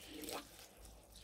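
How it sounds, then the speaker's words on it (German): Water from a watering can splashes onto potting soil in a box, a short, soft, close pour with a gentle hiss. "ich habe glaube ich in der Gießkanne hier ein bisschen Wasser"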